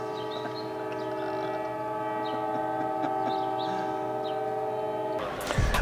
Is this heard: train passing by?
yes